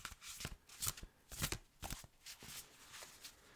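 Quick riffling bursts of tarot cards being shuffled, a few separate flurries with short pauses between, close and fairly quiet.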